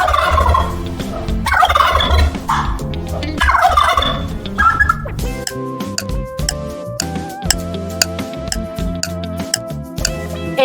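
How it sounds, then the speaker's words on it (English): A turkey gobbles loudly in repeated rippling bursts over the first half, then steady musical tones take over. "Turkey. Say with me, turkey."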